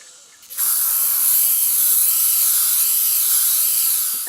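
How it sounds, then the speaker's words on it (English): A steady, loud hiss of PlastiKote spray paint begins abruptly after a short quiet moment and continues without a break to the end. "so I'm just going to start spraying now."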